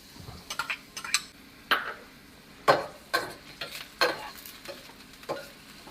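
Onions frying in vegetable oil for Jamaican curry fish produce a quiet, close sizzle broken by repeated clattering utensil hits and scrapes against the pot.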